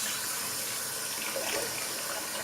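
Tap water runs steadily from a faucet while someone rinses off after a wet shave, a constant close hiss with no talking.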